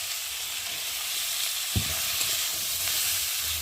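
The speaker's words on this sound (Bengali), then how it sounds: "আদা বাটা, জিরে বাটা, একটা টমেটো কুচি দিয়ে মশলাটা ভালো করে কষিয়ে নেব।" Paste of ginger and cumin with chopped tomato and peas frying in a pan, a continuous close sizzle with a single sharp clack of a spatula partway through and faint stirring afterward.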